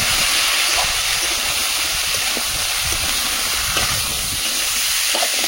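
Vegetables sizzle in hot oil over a clay stove, a loud, steady, hissing crackle that carries on without a break, with no talking.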